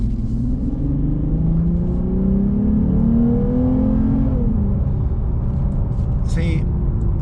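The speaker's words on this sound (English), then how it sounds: "For a car with 311 horsepower, this thing should definitely pick up way more than it does." A 2021 Lexus IS350 with a 311-horsepower engine accelerates, its engine drone rising steadily in pitch, then easing off as road rumble continues loudly from inside the cabin.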